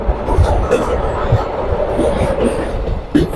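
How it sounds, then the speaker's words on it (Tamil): A train rolls along the rails with a rumbling, rhythmic clatter of wheels, heard from inside the carriage, loud and continuous. "டக்குன்னு ரயில் மூவ் ஆச்சு"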